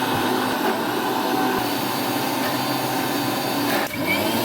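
Continuous steady whirring of an electric grinder mashing soaked biuli lentils into paste, loud and unbroken throughout with a brief dip near the end.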